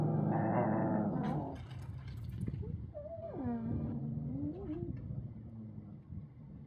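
Several dogs in a household growl and snarl low and rumbling, with wavering whine-like tones rising and falling between the growls at moderate volume.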